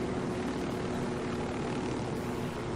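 An aircraft engine drones steadily and loudly in the open-world shooter Ghost Recon Wildlands, a continuous propeller-like hum with no pauses.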